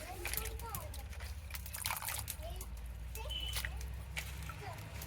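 Water sloshes and bubbles in a pot where teora greens are boiling in a village kitchen. It is a soft, steady liquid churning, and faint voices can be heard in the background.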